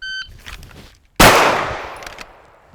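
A single sharp gunshot at an outdoor shooting range, loud and close, with a long decaying echo, preceded by faint quieter sounds.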